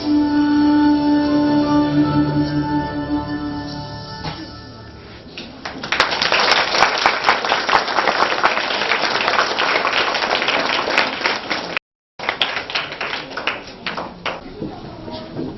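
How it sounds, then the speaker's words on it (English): Audience applause after a surrealistic dance performance at a birthday celebration, following a stretch of music; sustained clapping, loud and fairly close, with a brief cut near the end. "Please give a bigger round of applause for that wonderful surrealistic dance"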